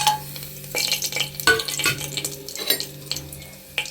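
Cloves and bay leaf hit hot oil in a pressure cooker while preparing brinjal biryani, a crackling sizzle broken by scraping stirs and metal clinks against the pot, close and fairly loud, with no talking.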